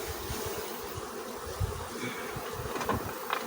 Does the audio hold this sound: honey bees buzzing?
yes